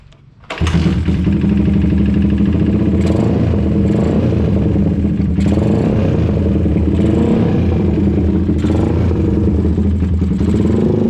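A Suzuki Satria FU motorcycle engine with a freshly serviced BRT I-Max 24-step CDI fires up after a brief pause, then runs loud and steady with revs rising and falling close by, alone without talk.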